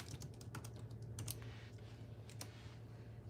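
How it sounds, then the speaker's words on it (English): A computer keyboard is typed on in quick, uneven bursts of soft clicks, faint and close, with a steady low hum underneath and no talking. "so y'all can see where I'm typing in gable box"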